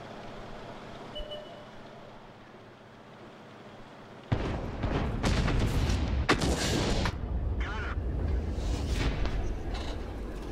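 Artillery bombardment in the World of Tanks video game opens with a sudden loud boom after a quiet hum, followed by a sustained barrage of heavy blasts and rumbling impacts.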